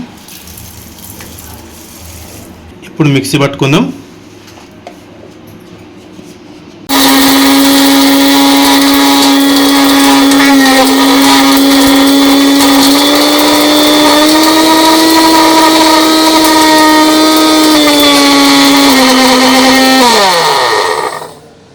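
A kitchen mixer grinder runs at full power for about fourteen seconds, grinding cooled masala for prawn biryani with a loud, steady high-pitched whine before spinning down, after brief handling clatter at the start.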